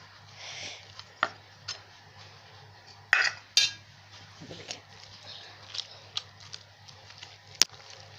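Cooked chicken and meat are pressed with a metal dal masher in a pot, making faint irregular clicks, taps and scrapes of metal on metal over a low steady hum.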